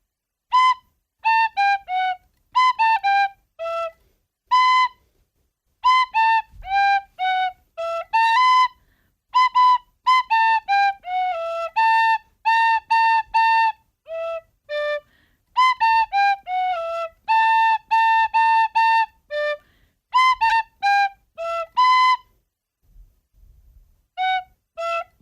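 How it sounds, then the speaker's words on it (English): A tin whistle plays a quick, bright melody in short phrases, with brief pauses between runs, close and clear with no voices. "That's a great one for the tin whistle, I feel like."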